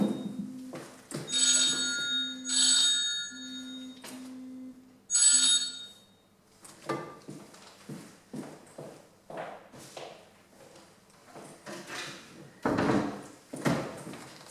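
A telephone rings in repeated electronic bursts, loud and close, followed by rustling, handling noises and someone talking nearby.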